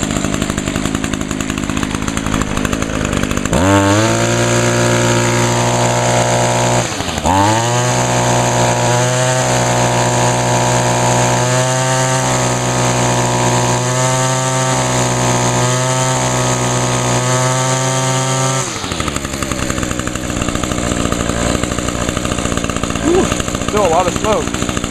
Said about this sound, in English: So this is on how you Seafoam a small two-stroke engine.